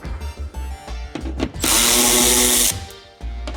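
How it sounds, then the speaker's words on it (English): Power tool removing 10mm screws from a BMW X5 G05 body panel, short handling knocks followed by a loud, close, steady whir for about a second before stopping. "I'm going to first take out the 10mm screws"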